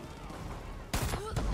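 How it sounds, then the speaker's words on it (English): A shotgun fires in Far Cry 5, two loud close blasts a moment apart breaking in after a quieter stretch of game ambience. "Is this a shotgun? I think this is a shotgun, actually."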